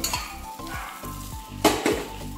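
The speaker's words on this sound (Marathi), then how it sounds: "यामध्ये किंचितसं गरम पाणी घालूया, हे दह्याच्या भांड्यातच पाणी घालून घ्यायचं" Warm water added to okra cooking in a yogurt masala, a loud close sizzle with rhythmic stirring scrapes against the pan and a sharp hissing burst midway.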